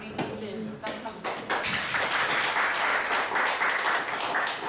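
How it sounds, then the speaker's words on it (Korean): A live studio audience at a talk with a KBS PD, author of a book on Tonj, breaks into applause that builds after a brief opening of voices, then holds as a steady, dense wash of clapping. "우리 박수 한번"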